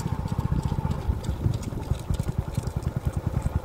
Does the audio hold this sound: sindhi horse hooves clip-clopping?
yes